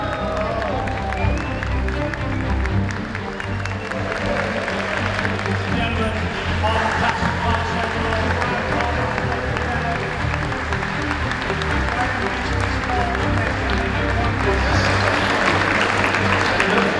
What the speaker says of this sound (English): Round of applause on top.